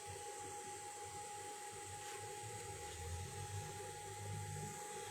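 Cooling fan of a Weped FF electric scooter running, a steady faint whir with a constant tone, heard alone and unbroken throughout.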